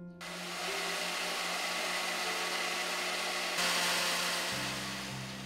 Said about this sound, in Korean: 급히 토마토와 채소를 갈아 준비합니다